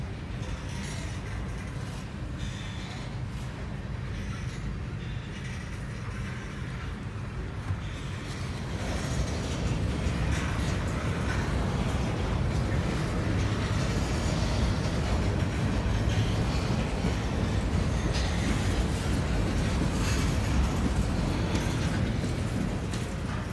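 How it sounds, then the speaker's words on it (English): A long freight train of 167 cars pulled by three locomotives rolls past nearby, a heavy continuous rumble and clatter that grows louder partway through and keeps going. "It's freight train."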